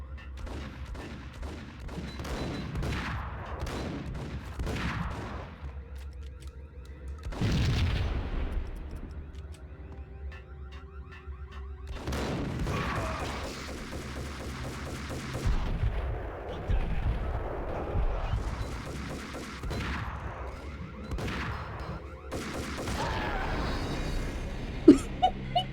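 In the Max Payne video game, gunfire comes in repeated bursts of sharp, loud shots and booming blasts with quieter gaps between volleys.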